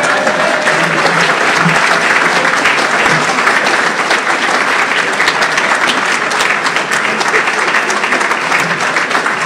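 A banquet audience at a labour union's Labour Day celebration gives the keynote speaker a standing ovation, with loud, dense clapping sustained without a break from start to finish.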